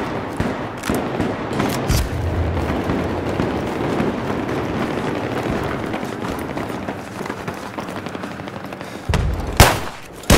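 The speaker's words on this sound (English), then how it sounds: "Oh, too many grenades, I'm dead." Continuous gunfire fills a video game firefight, a dense close barrage that ends in a couple of sharp, heavy bangs in the final second.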